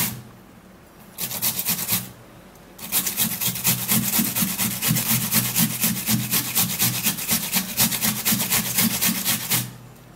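Red onion rubbed quickly against a box grater, a steady run of rapid rasping scrapes after a short pause, close and loud with no talking.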